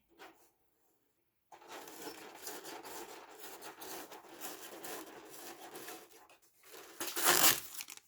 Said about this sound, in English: So I'm going to run this part through my sticker maker.